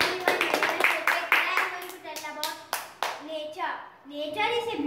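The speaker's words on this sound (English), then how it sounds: "Claps." Clapping from an audience at a children's World Environment Day lecture event, sharp individual claps landing in a loose rhythm while a voice speaks over and between them.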